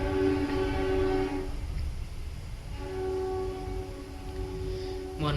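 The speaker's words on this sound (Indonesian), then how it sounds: "ada noise karena memang rumahnya dekat dengan jalur kereta api" Train on a nearby railway line passing a house, a loud steady rumble with two long horn blasts separated by a short pause and a third starting at the end.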